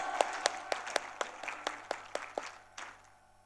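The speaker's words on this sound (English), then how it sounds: "Let's give them all a big round of applause." A small audience at a session applauds parents, giving brief, fairly close clapping in a loose rhythm of distinct claps that fades out after about three seconds.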